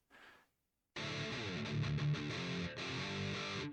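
An electric guitar played through the distortion 3 effect of a Zoom R8 recorder makes a few sustained, crunchy distorted chords, close and fairly loud, after a brief quiet pluck and a short gap.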